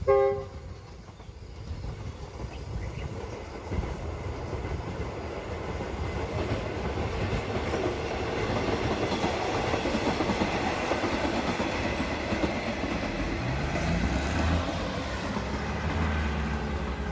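Train passing near a railway bridge in the hills of Thailand, a brief toot at the start followed by a growing, sustained rumble and clatter of wagons that stays loud to the end.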